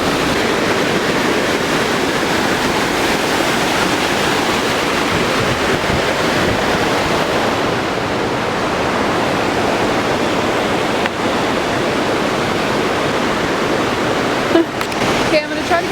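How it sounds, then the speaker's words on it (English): A loud, misty waterfall in Yosemite roars as a steady, dense rush of falling water, constant and close throughout with no pauses. "it's very loud and very misty over here. We are at the waterfalls."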